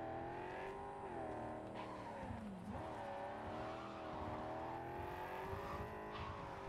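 A car in the Cyberpunk 2077 video game drives and skids, its engine droning steadily while tires squeal in long wavering sweeps, loud and continuous throughout with no talk.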